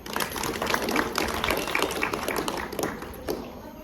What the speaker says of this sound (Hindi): तो ऐसे परिवार की ताली तो बजा दो।